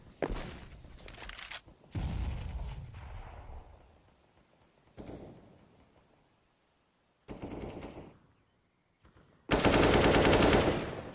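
Gunfire in a Counter-Strike match, with bursts of rapid shots separated by quiet gaps and ending in a loud sustained volley.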